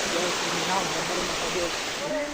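Steady broadband rush of a waterfall with water pouring downhill in a mountain setting, continuous and fairly loud, with faint voices underneath.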